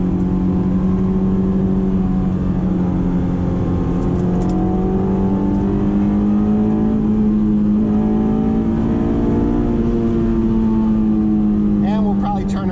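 A Honda S2000 engine rises and settles through a heel-toe downshift into third gear, its steady, loud rev tones shifting pitch from inside the moving car; a voice speaks briefly near the end.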